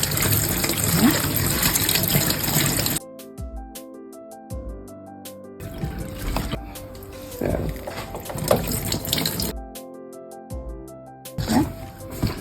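Purslane is rinsed under a running kitchen tap: bursts of gushing, splashing water start and stop several times, with a voice heard in the pauses between them.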